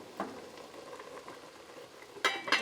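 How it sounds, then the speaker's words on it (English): Turnip greens boil in a pot on a stovetop, a soft bubbling and stirring texture with a brief louder clatter near the end, no voices. "these are boiling great, so I'm just going to turn the heat down"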